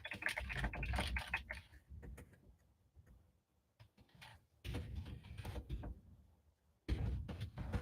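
Fast keystrokes clatter on a computer keyboard in uneven bursts, close and crisp, with a short pause mid-way before the tapping resumes.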